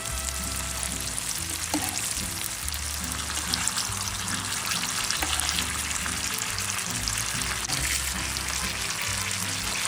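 Corn tortillas frying in hot oil to become chips, a loud, continuous sizzle and bubbling crackle with a low rumble beneath, no one speaking.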